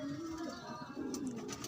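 A racing pigeon lands at its loft after a race released from Catanauan, Quezon, with soft cooing and bird calls over a steady background hum.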